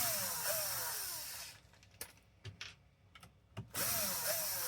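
A power drill driving screws into an Xbox Series X whirs in two loud whining bursts with rising pitch, separated by a quieter stretch of small clicks and taps from handling the console.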